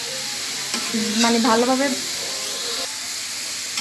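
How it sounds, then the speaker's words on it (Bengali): Chopped vegetables for a Chinese-style vegetable dish stir-fry in a hot pan, with a constant close sizzle and hiss while a voice speaks briefly over it. "এখন আমি ভালোভাবে একটু এগুলোকে ভাজা ভাজা করব"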